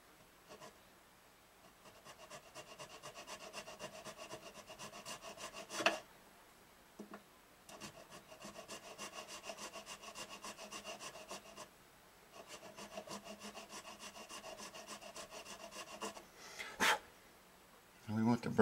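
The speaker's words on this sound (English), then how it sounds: "I'm filing the same angle that the headstock is" A file rasping in the nut slots of a Martin D28 acoustic guitar: repeated rhythmic strokes in bursts separated by short pauses, with a few sharp knocks, close and fairly quiet.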